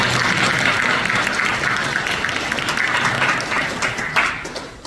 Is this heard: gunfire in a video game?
no